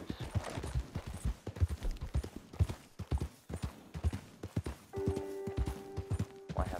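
Rapid, rhythmic horse hooves clip-clop continuously at close range in Red Dead Redemption 2, with a brief tonal chime near the end and little talking.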